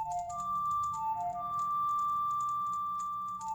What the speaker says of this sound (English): It's the secret melody of the Composer Brothers.